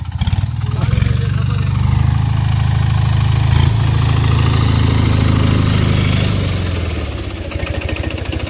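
A small four-wheel-drive mini tractor engine chugs steadily nearby in a castor field, loud and rhythmic, easing off slightly near the end, with a voice speaking over it.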